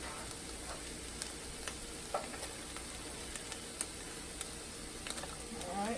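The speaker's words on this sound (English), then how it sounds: "I'm going to add in the pasilla pepper and our medium onion into the pan." Pasilla pepper and medium onion sizzle steadily in an oiled pan, a constant frying hiss broken by small pops and crackles, with a few sharper ticks and a rising burst near the end; no one speaks.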